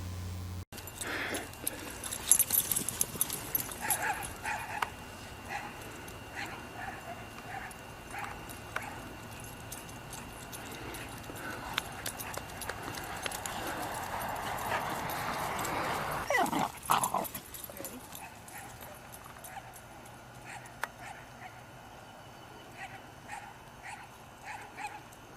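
A dog chasing tennis balls, with scattered barks and jangling, clattering movement spread over a long stretch, fairly faint and somewhat distant, with no talk.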